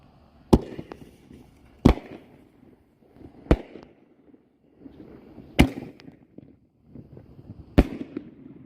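A Pure Power fireworks cake by Cutting Edge Fireworks fires five sharp, loud bangs at steady intervals of about a second and a half, each followed by a brief crackling tail outdoors.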